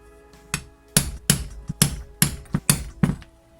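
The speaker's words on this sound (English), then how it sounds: "I'm going to measure, say, every inch or so for a hole, and then punch them in." A hole punch is struck into leather for a box build. Seven or eight sharp, close hammer blows land at irregular intervals, with a faint tap or two between them.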